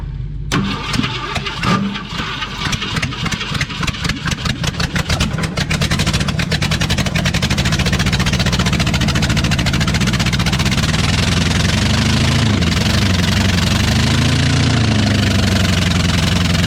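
An old car engine with carburetor, exhaust and fuel trouble cranks with a rapid starter chatter, then catches and settles into a loud, steady, slightly uneven idle that runs close and alone for over ten seconds.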